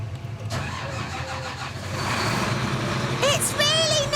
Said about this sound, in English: The farmer turns the key to start the combine.